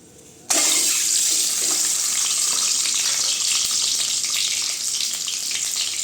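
After half a second of near quiet, eggs drop into hot oil in a kadai for a Tamil egg fry. A loud, close, sustained frying roar follows and holds steady to the end.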